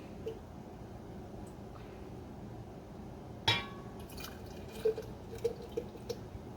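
Hard oolong kombucha is poured into a glass, a quiet liquid trickle with a sharp clink near the middle, then scattered small drips and fizzing pops.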